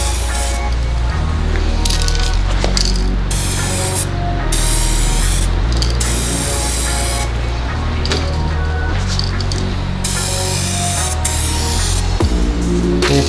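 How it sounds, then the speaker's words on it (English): 2K clear coat sprayed from an aerosol can onto custom G35 interior parts, in loud hissing bursts that start and stop repeatedly with short pauses between them. "this is the clear coat we're gonna go ahead and use. It's 2K clear."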